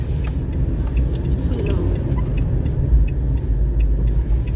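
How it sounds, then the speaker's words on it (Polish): A loud, deep V10 truck engine rumble idles and revs steadily close by, with faint voices in the background. "V10, jaki silnik."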